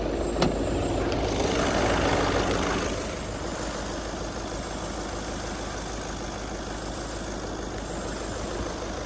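A 2018 Volkswagen Ameo car engine idles with the bonnet open, a steady close mechanical hum and rumble with a brief louder stretch early on before settling to an even drone.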